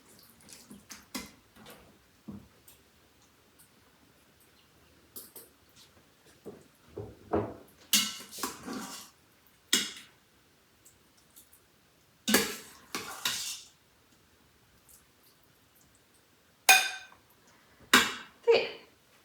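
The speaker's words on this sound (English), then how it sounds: "I'm now going to dish it up" Creamy tuna, cheese and spinach risotto being dished up from a pan, with scattered clinks and scrapes of a spoon against metal and plates, some louder knocks in short bursts and quiet gaps between.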